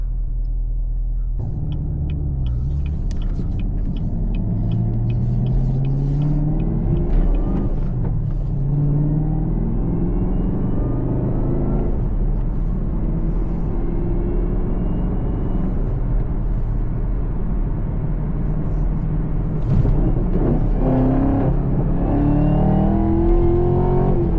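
A 2022 Chevrolet Camaro ZL1 being driven, heard from inside the car: a deep, steady engine rumble that rises and falls as it revs and shifts, continuous and loud throughout.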